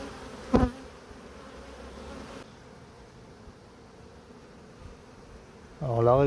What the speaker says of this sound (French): N'oublie pas les abeilles du cadre que j'ai retiré.